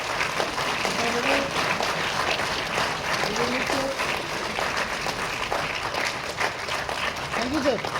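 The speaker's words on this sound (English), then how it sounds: "A round of applause, ladies and gentlemen, for Srimati Simi Prasad." Audience applause at a Soso Tham Day ceremony in Meghalaya, with steady dense clapping from a crowd throughout and faint voices mixed in underneath.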